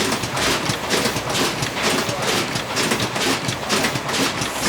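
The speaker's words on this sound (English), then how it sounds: "Can you hear the sound of the machine?" Rhythmic mechanical clatter of a toothpaste tube factory machine running steadily, a busy repeating beat with broadband rattling throughout.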